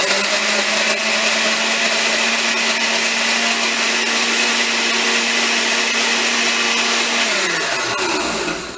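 A countertop blender on its smoothie setting whirs loudly and steadily for several seconds while blending an orange cream vegan smoothie, then spins down near the end.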